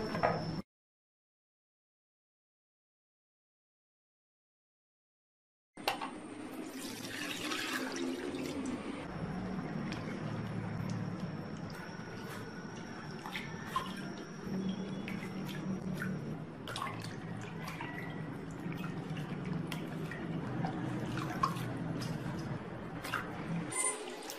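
Wood ear mushrooms being squeezed and rinsed in water with a spoonful of tapioca starch, making a steady wet sloshing and dripping that carries on for about eighteen seconds after a short silence.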